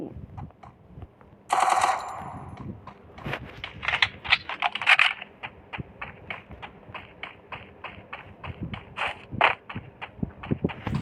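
Rapid automatic gunfire in the battle-royale video game Free Fire, a dense run of sharp repeated shots with a louder burst near the start, loud and close with no talk over it.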